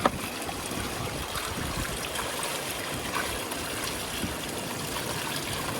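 Water runs steadily over a freshly found piece of gold at a Yuba River prospecting gathering, a continuous close trickling wash with no voices.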